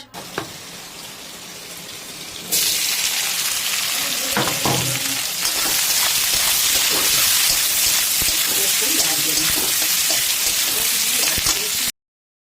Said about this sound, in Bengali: এখানে দেখুন পেঁয়াজটা কিন্তু ভাজা হয়ে গেছে